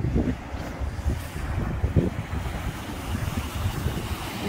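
Rough, stormy water splashing against a boat, a steady churning wash with wind buffeting the microphone and a few heavier surges, no speech.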